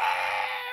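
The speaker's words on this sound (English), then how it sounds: "But if Red the Rooster joins in, it'll be even more fun." A rooster crowing in a children's TV sing-along episode, one short loud strained call heard close and alone, cut off before any following sound.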